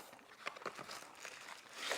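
Plastic bag crinkling around a new water ionizer filter, with quick, close rustles and crackles coming in bursts over a soft background, growing denser at the end.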